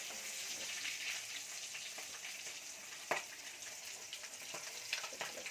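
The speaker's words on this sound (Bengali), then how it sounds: "দুটো সাইডেই ভাজা হয়ে গেছে" Katla fish frying in a pan of oil, a soft continuous sizzle with occasional small pops and a scrape or two, fairly quiet and without talk.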